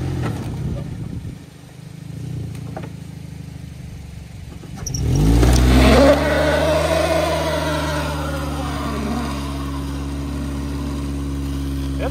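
A Toyota Yaris engine revs hard as its wheels spin in dirt, rising to a loud, sustained roar that holds steady at high revs after a quieter idle start.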